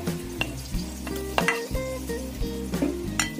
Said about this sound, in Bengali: আমি এবার মশলাটাকে এক দুই মিনিট আমি ভেজে নিব